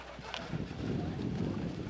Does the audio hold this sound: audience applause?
no